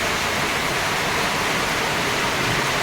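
Torrential monsoon downpour over an overflowing fishpond makes a constant, loud rushing hiss, close and uniform throughout with no pauses.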